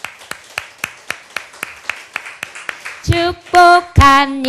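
A church congregation at a Wednesday worship service claps to welcome a first-time member, with sharp, evenly spaced claps in a steady rhythm followed near the end by sustained voiced or sung tones.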